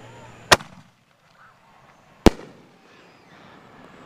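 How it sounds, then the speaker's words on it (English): Two loud, sharp firework mortar shell bursts roughly two seconds apart at a backyard Fourth of July show, each a sudden crack with a short decaying tail, separated by near silence. "And the mortar's going off again."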